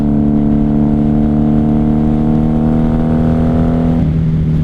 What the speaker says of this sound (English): Probably sounds a little better than this one with the open exhaust. Open factory OEM exhaust.